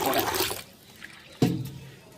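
Water poured into a container over lentils to soak them, a gush of splashing liquid at the start and a second brief pour later, heard close with no talk.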